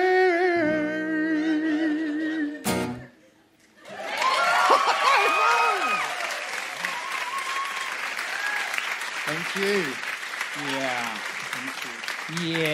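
Audience in a fantasy-kingdom town square claps steadily for several seconds after a short pause, with sustained broad applause mixed with a few cheers and chuckles, while voices speak over it toward the end.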